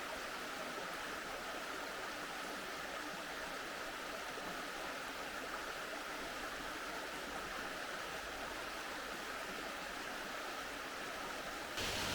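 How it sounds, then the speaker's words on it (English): An 80-foot waterfall in the Blue Ridge Mountains pours in a steady, dense roar of falling water that holds even and unbroken throughout, with no voices. "I was led to believe this wasn't much of a waterfall, but it's pretty nice"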